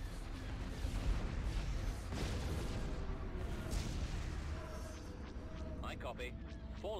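Bombing run explosions in the Star Wars strategy game Empire at War, a rumbling chain of distant booms and low thuds, with game voices speaking over the end.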